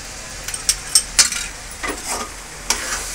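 Ghee goes into carrot halwa in a pan, giving soft sizzling with scraping spoon strokes and a few metallic clinks against the pan, no talking.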